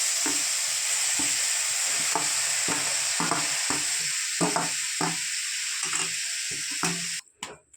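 Butter and white oil sizzle loudly and steadily in a pan for carrot halwa, with a utensil scraping and stirring at a regular beat, then the frying cuts off sharply near the end.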